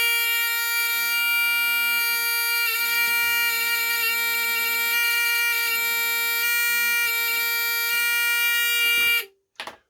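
A buzzer wired into a simple school switch circuit gives a loud, steady electronic tone that holds for about nine seconds, then stops abruptly, followed by a short burst of noise.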